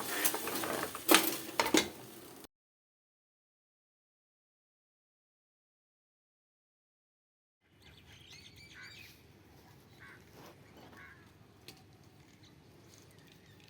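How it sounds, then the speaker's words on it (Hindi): Pet birds squawk and chirp during rain, a loud burst of calls up front, then a silent gap before softer, scattered chirps return over a steady wash of rainfall. "परिंदे मेरे जो है ना वो उड़ रहे हैं"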